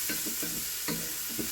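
Onions frying in a pan, stirred with a wooden spoon: a steady sizzle with a few soft scraping strokes at intervals, close and moderately quiet, with no voices.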